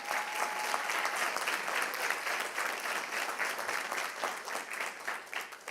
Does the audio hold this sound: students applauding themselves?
yes